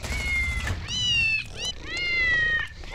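Cat meows in the video game Garry's Mod, three or four rising and falling calls in quick succession, close and clear over a low background hum.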